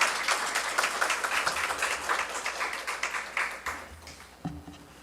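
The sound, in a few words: applause welcoming the missionary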